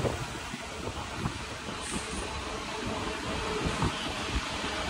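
Train running from Bangalore to Nandi Hills, a steady loud rumble and hiss of the moving carriages with faint clatter, no voices.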